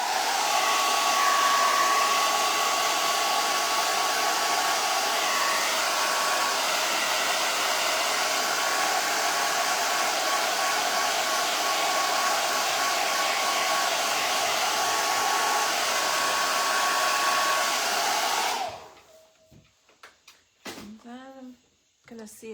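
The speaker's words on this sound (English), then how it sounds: "I'm gonna use the blow dryer for just a second" A handheld blow dryer runs steadily with a loud, constant whooshing roar, used while painting a girl reindeer figure; it cuts off near the end, leaving quiet room sound and a brief voice.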